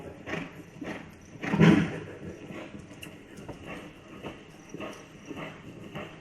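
A horse's hooves clop at a walk during a colt-to-cow training session, a loose, uneven series of soft thuds with one heavier step, fairly close and with no talk over them.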